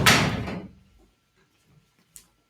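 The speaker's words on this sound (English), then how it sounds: "give me a moment as I close the door to prevent any" A door is shut in a room, with one loud close thud at the start that decays over about half a second, then near silence broken by a small faint knock.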